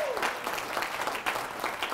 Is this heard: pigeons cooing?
no